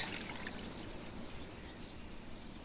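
Cold water pouring into the top section of a still set up for making hydrosol, a faint steady trickle with soft bird chirps in the background.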